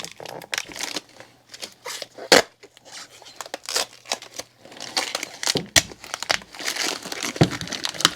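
Transparent dye film for disc golf discs being ripped and torn, giving close, irregular bursts of crinkling and crackling with sharp tearing peaks and brief pauses between pulls.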